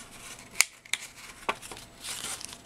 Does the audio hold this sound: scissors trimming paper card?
yes